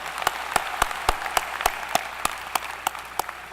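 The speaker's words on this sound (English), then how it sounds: "Let's give him a round of applause." Audience applause for a new president in his first official day, heard at a spring commencement ceremony: a broad wash of clapping punctuated by sharp, regularly spaced loud claps near the microphone, steady throughout.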